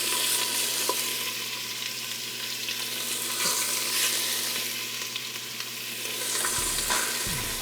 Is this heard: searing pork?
yes